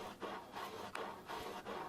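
A bevelling file rasps along guitar fret ends over a wooden fingerboard during a refret of an old Yamaha FG-110, in steady back-and-forth strokes of dry, gritty scraping, close and fairly quiet.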